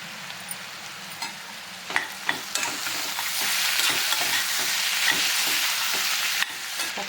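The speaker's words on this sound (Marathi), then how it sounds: "आता परत दहा मिनटं परतून देऊ याला" Bitter gourd (karela) bhaji sautéing in a pan makes a continuous close sizzle broken by repeated scraping and tapping of a spatula as it is stirred, with no talking.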